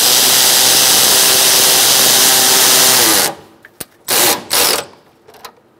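A tool tightens a radiator bolt on a 1998-2011 Ford Ranger 3.0L V6, with a loud continuous mechanical whir for about three seconds, then a few short ratcheting bursts close by and no talk.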